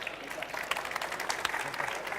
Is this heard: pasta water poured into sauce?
no